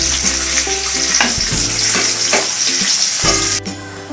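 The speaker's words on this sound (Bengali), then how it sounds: "জলটা ফুটে গেছে এইরকম ফোটা অবস্থায়" Water for microwave dhokla at a rolling boil in a pot, a loud, steady bubbling hiss with a faint periodic hum beneath, cutting off sharply near the end.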